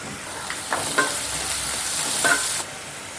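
Onions fry in a pan during a village-style cooking of potato kurma, a close, constant sizzle broken by a few scraping stirs.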